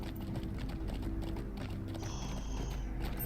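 A horse's hooves clip-clop steadily while riding through a cave in the Lord of the Rings Online game, a rhythmic mid-level patter over low ambient rumble, with a brief tonal chime partway through.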